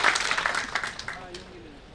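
Applause at an inauguration ceremony for a minority affairs office, scattered clapping from a gathered crowd that fades over about two seconds, with a voice speaking over it.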